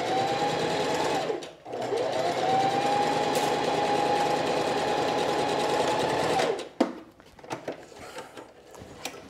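Sewing machine stitching a side seam and down the sleeve of a sheath dress, running in a steady close whir that briefly slows, resumes for several seconds, then stops into faint handling clicks.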